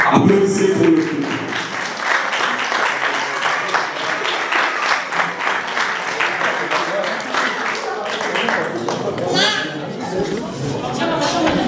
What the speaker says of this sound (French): Applaudissez pour le couple.